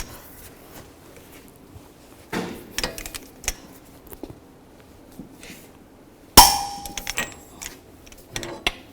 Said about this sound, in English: take a punch or a chisel and a hammer and just give it a tap